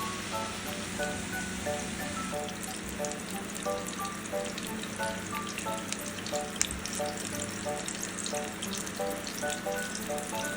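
Vegetables frying in an overloaded small frying pan for a vegetarian dish, giving a steady close sizzle with faint crackles and occasional light clinks, continuous with no talking.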